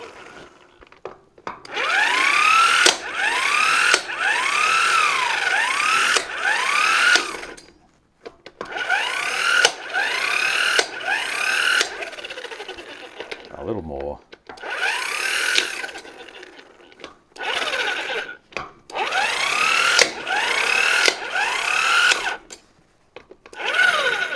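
Cordless power tool set to reverse spins off trailer wheel nuts one after another, loud whirring bursts of several seconds each separated by short pauses, close by with no talking.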